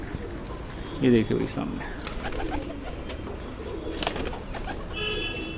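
Domestic pigeons kept by a breeder, mostly males, coo in low pulsing bursts near the start, with more faint calls scattered through steady outdoor background noise; someone talks briefly.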